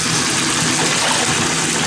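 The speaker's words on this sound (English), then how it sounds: "I usually run it under the faucet first, but I could turn the water on." Tap water gushes steadily from a faucet into a bathtub, a continuous loud broadband rush filling the whole stretch with no talking.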